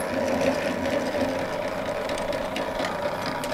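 A 100-year-old electric drill boring steadily, with a continuous close motor whir and grinding hum that stays at an even level without pauses.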